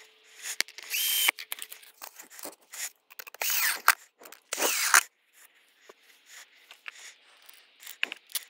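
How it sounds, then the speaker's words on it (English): A power screwdriver drives screws through polystyrene on a beehive, heard as several short, loud whirring bursts separated by quieter scraping and handling noises. "You can push these screws through the polystyrene. I prefer to run the screwdriver, run it down through there"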